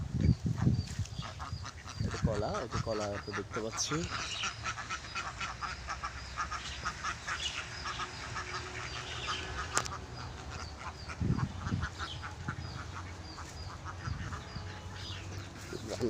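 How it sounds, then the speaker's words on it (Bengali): Ducks kept in a fenced enclosure on a rural farm in Patiya, Chittagong, quack repeatedly in bursts near and far, under a voice talking nearby. "হাঁস সুন্দর হাঁস, এখানে এটা একটা বন্ডারের মধ্যে রাখছে।"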